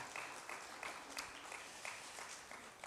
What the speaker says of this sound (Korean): 큰 박수 한번 보내주시기 바랍니다